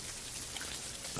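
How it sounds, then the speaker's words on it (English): Steady rain patters in a music video, a dense, even hiss of drops on a surface, constant and moderately loud with no voices over it. "It's raining."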